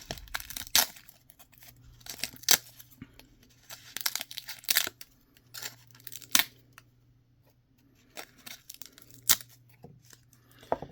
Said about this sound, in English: I like to kind of tear it up, put little pieces in there.